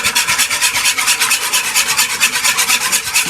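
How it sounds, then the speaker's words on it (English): A whisk beats eggs for vanilla and strawberry cake batter in quick, even rhythmic strokes, close and loud, with a steady scraping swish repeating several times per second. "the time to use the whisk to beat the eggs."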